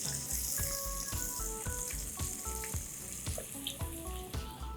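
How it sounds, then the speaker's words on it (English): Raw jackfruit pieces fry in mustard oil over a high flame, a steady crackling sizzle with scattered pops and light clinks of a utensil, close and moderately loud. "Let's fry the jackfruit on high flame till it's golden brown in color"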